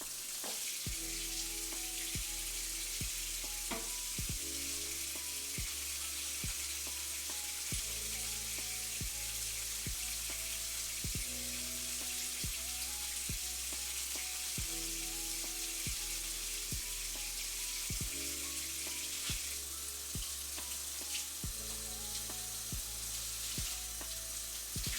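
A lemon is rinsed under a running kitchen tap, giving a steady, close rushing hiss of water that continues unbroken for the whole stretch, with a soft tonal backing of music underneath and no talking.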